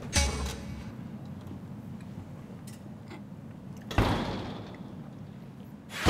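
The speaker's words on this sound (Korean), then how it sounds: "이거 문 소리 때문에 나왔지 너" A door indoors opens and shuts, with a loud thud and rattle at the start, another bang with a rushing sweep midway and a final knock at the end, over a low room rumble.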